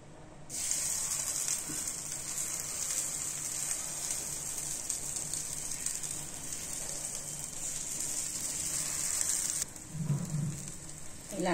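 Batter sizzling steadily in hot oil in a paniyaram pan while making ponganalu, a continuous bright hiss that shifts briefly near the end as the pan is handled.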